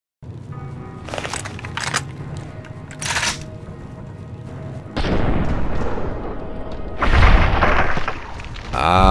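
Lever-action brush gun firing in Fallout: New Vegas, a few heavy booming shots with broadband blasts and rumbling tails, loud and close.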